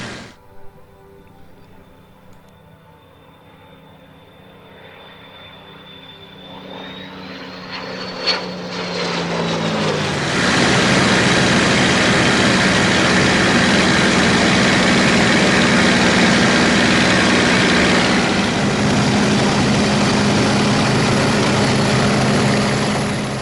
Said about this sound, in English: So just as we approach center field, Derek will pull up. Yep, there he goes.